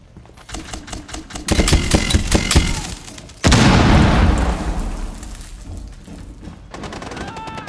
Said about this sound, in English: Tossing stun grenade.